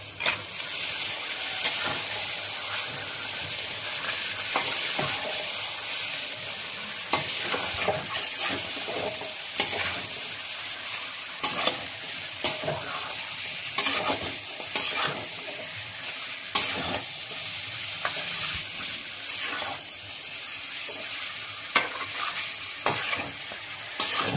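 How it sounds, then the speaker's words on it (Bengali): Washed meat frying in a pan with already-fried spices, a steady loud sizzle broken by repeated scraping stirs, with no voices. "এরপরে আমি মাংসটা ধুয়ে রাখা সেটা দিয়ে দিচ্ছি।"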